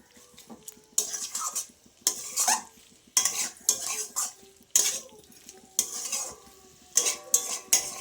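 A spoon stirs cauliflower-stalk curry with fresh coriander in a pan, making repeated rhythmic scraping strokes with short pauses between them and a light sizzle underneath.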